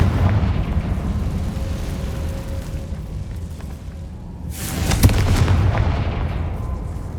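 Confringo fire spell explosions in the video game Hogwarts Legacy, with low rumbling blasts and a sharp burst midway followed by a rolling, roaring fiery boom.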